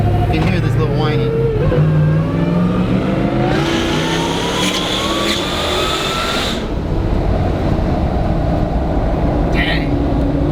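A Jeep JK fitted with a Hellephant 1100 hp engine revs loudly nearby, its whine rising in pitch through a sustained acceleration, with people talking over parts of it.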